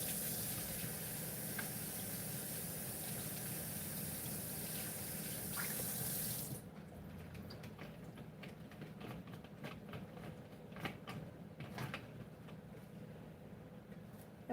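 Food is rinsed under a running kitchen tap, water gushing steadily for several seconds, then the stream stops and quieter handling clatter and small splashes follow, with no talking.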